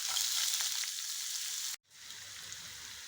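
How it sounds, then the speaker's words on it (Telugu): Onion frying in hot oil, with a loud, close, continuous sizzle that stops for a brief moment and then resumes more softly, and no voices. "ఆనియన్ వేస్తున్నాను"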